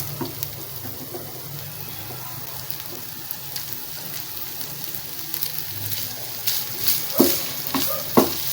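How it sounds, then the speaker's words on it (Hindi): Minced meat (keema) for bun kebabs frying in a pan with dry masala, stirred and scraped by a spoon. A steady low sizzle runs under it, and louder scraping strokes come near the end, with no voices. "तो बस इसको इस तरह हम बस थोड़ी देर भूना है"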